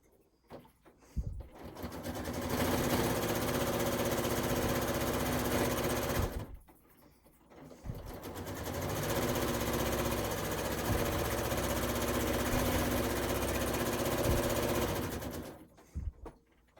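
Sewing machine stitching a row across a quilt back, running in two long steady bursts with a short pause between, a fast buzzing rattle heard up close with no talking.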